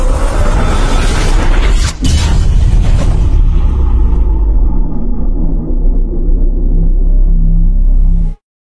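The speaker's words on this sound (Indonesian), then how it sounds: "Di atas langit kota Longsan yang cerah, tiba-tiba terdengar suara guntur." Loud, deep thunder rolls and booms over a clear sky above a city, with a sharp crack near two seconds, then a long heavy rumble that fades before cutting off abruptly.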